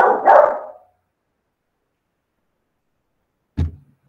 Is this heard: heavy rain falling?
no